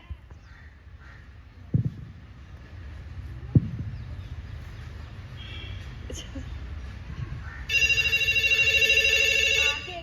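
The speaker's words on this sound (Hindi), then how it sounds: "लगता है फोन आ रहा है।" A phone rings near the end, a bright electronic ringtone after a few seconds of quiet room noise with soft knocks and a distant bird call.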